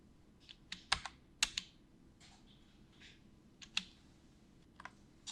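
Keys on a computer keyboard pressed one at a time, including the Home key and spacebar, as a few sharp, quiet, irregularly spaced clicks close by in a silent room.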